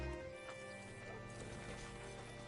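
Horse hooves clip-clopping at a steady walking pace in the Red Dead Redemption 2 video game, moderately close and fairly quiet over a low ambient background.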